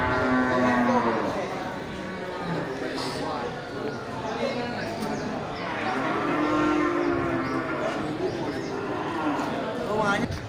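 Large beef cattle at a quiet cattle market moo loudly in long, drawn-out calls, one near the start and another midway, over a continuous murmur of crowd chatter and market bustle.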